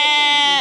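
A sheep at a Moroccan livestock market lets out one loud, close, drawn-out bleat that fades at the end.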